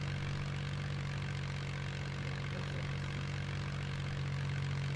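A fighter jet in Just Cause 3 flying with a steady, continuous engine drone and hum that holds even and unbroken throughout, with no speech.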